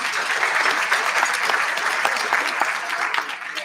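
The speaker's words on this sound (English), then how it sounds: "give every one of yourselves a round of applause" A crowd at an awards ceremony claps in a dense, sustained round of applause that stays strong before easing slightly at the end, with no one speaking over it.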